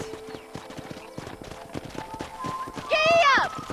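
Horse hooves clip-clop rapidly in a galloping rhythm in the video game Red Dead Redemption, then the horse gives a loud whinny near the end, with a voice briefly over the hoofbeats.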